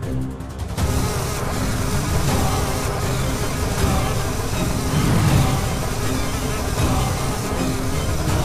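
Swarming mosquitoes make a loud, dense, continuous buzz that fills the scene without pause, after a brief muffled start.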